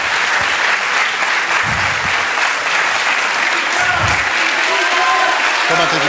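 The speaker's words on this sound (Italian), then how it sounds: "Vedete che l'applauso per loro ha un senso." Audience applause at a football team event in Dimaro, sustained dense clapping from a crowd, loud and continuous, with a voice speaking briefly over it.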